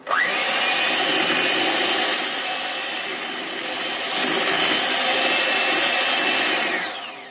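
An electric mixer running at low speed stirs cheese-butter sponge cake batter with milk added, giving a steady close-up motor whir that dips slightly midway and fades at the end, with no talking.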